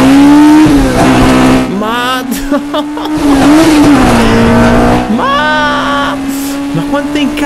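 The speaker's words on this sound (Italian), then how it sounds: "È bello continuare a cambiare marcia, a sentire proprio dalla prima alla sesta. S2000." A Honda S2000's VTEC engine screams up through the gears, each rising howl cut by a brief dip at the shift before climbing again. Close and loud, with a voice speaking over parts of it.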